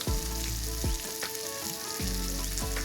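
Pork fries in a pan for an Assamese-style pork dish with black lentils, a loud steady sizzle heard close, with background music over it.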